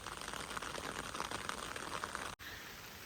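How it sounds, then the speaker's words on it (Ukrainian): Soft, steady patter of light rain beside a river, faint and continuous, with a brief dropout near the end. "Дощик, ви бачите, йде."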